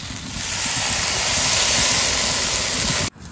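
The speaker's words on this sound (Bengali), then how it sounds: "এবার একটু জল দিয়ে দেবো।" Water splashed into a hot pan of spiced kochur loti (taro stolons) sets off a loud, steady hissing sizzle that holds for about three seconds, then cuts off abruptly.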